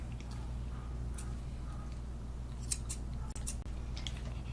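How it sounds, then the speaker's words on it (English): Curved grooming scissors trimming a Maltese puppy's fur, heard as a few quick, light metallic snips close by over a steady low background hum. "Using the curved scissors, once again,"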